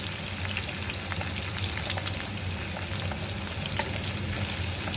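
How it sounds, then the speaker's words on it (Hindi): Okra (bhindi) frying undisturbed in a pan gives a steady, dense sizzle with scattered tiny pops and crackles, close and continuous throughout with no talking. "इनको हिलाऊंगी नहीं मैं, क्योंकि भिंडी थोड़ा टाइम लेगी अच्छे से फ्राई होने में"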